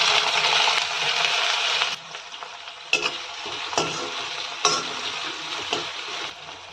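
Chopped onion, garlic leaves and green chilli frying in hot oil with cumin in a kadai, a steady loud sizzle with sharp spoon scrapes and stirring clinks breaking through at intervals.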